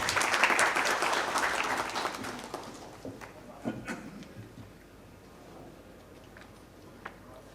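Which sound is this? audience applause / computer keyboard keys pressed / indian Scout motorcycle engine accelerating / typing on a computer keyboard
audience applause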